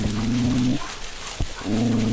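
Hunting dogs in a forest during a hunt bark close by in two sustained, howling bursts, one at the start and one at the end, with a short quiet gap and a sharp knock between them.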